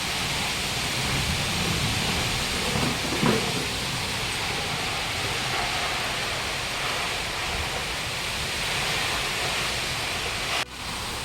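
Steady heavy rain pours outside with a constant broadband hiss, one brief louder swell near the middle and a short drop near the end; no thunder stands out.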